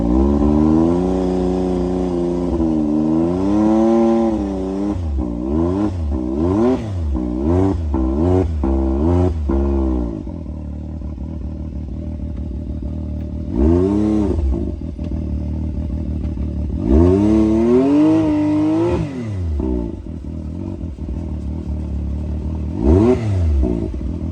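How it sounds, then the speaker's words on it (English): Loud exhaust and engine of a Can-Am X3 side-by-side sputtering and revving in repeated bursts, close up and rough, with uneven pulses and idle stretches between throttle blips, no talking. "You're probably not gonna be able to hear over this loud exhaust"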